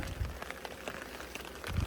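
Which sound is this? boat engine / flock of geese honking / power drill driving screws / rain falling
rain falling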